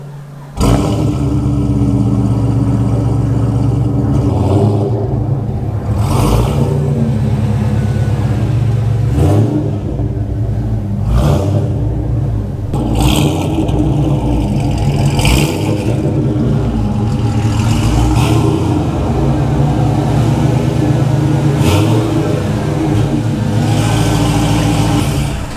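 2004 Pontiac GTO being driven around, a loud, close engine note that rises and falls with repeated revs and gear changes over about twenty-five seconds, no talk.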